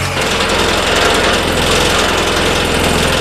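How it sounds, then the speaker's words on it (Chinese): An old Volkswagen Jetta engine runs steadily after starting, with a dense, continuous rattling chassis noise throughout, loud and close, with no talking. "先打着车听一下"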